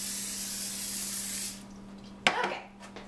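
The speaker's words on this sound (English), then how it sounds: "Take your cooking spray and spray the pan." Cooking spray hisses steadily onto a baking pan for about a second and a half, then stops, followed by a brief clatter and faint handling noises.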